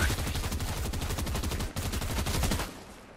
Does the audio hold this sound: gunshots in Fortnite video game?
yes